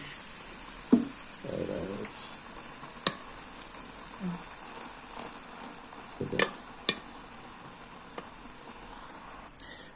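Boiled spaghetti stirred with liver in a pan, a soft ongoing sizzle broken by several sharp scrapes and clinks of a spoon against the metal, close and unhurried.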